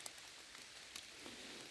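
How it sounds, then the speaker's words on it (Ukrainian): Heavy autumn rain falling in a dark, wet forest, a faint steady hiss of drops pattering on leaves with occasional louder splats, with no one talking. "Все дуже мокре. Таке мокруще, дощ такий садить."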